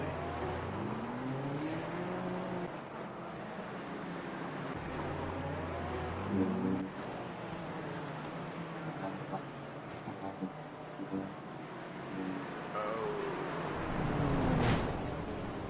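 Porsche 992 Cup car in Assetto Corsa Competizione, engine revving up and down through gear changes with rising and falling whine, some tire squeal near the end, fairly quiet overall.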